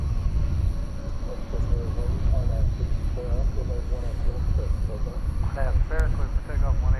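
An American Airlines wide-body jet roars on its takeoff roll at DFW at night, a broad steady engine rumble that holds throughout, with faint radio chatter and voices in the foreground.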